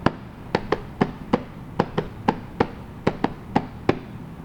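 A notebook is struck or slapped by hand to make sound, producing about a dozen sharp, close, irregular thwacks in a quiet room.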